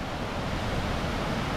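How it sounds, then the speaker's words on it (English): Wild bush waterfall at Punchbowl Falls, New South Wales, running full after two nights of rain, heard as a steady, loud broadband rush of falling water with no break. "lot of water streaming through there"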